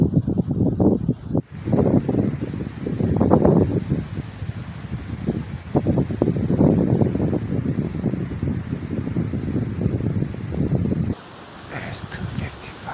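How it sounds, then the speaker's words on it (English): Strong gusts of wind buffet the microphone outdoors during a deer hunt, in surging, roaring waves, briefly dropping off before picking up again near the end. "It's quite windy today."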